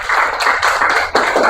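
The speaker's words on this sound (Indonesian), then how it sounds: "tepuk tangan untuk Anai" Classroom applause for a student: a short burst of brisk, close hand clapping in a few uneven waves from a small group, with no talking.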